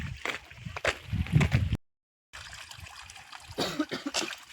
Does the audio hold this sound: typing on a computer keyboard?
no